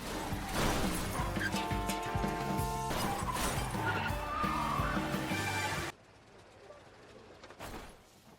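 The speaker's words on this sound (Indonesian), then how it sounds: "si penjahat itu harus tertabrak sebuah bus dan terjadilah tabrakan beruntun di sana" A film car pileup follows a villain being struck by a bus, with loud crashing and clattering impacts over dramatic music, then a sudden drop to quiet rumbling.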